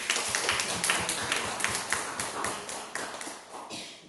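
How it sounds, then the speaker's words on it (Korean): A church congregation at Sunday worship claps together in a steady burst of applause, the many hands producing a dense, rhythmic patter that gradually thins and fades by the end. "우리 박수 한번 해주시죠."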